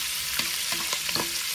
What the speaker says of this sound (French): Là on met les oignons